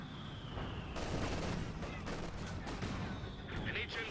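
Video game battle with a tank and infantry: a grenade blast and bursts of gunfire crackle and boom in quick succession at moderate level, dense and continuous over a few seconds.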